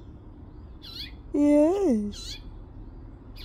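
A female house finch with nestlings gives short, high chirps from nearby. One chirp comes before and one after a person speaks a single word in a close, loud voice.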